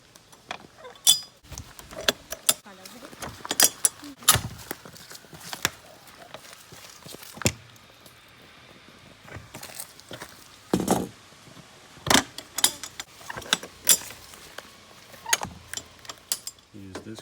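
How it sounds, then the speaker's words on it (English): A lift crank on a Starcraft Spacemaster 1224 pop-up camper turns with irregular metallic clanks, clicks and ratcheting knocks, some loud and some faint, spread across the clip. "Use this crank, goes right in there. And you start cranking."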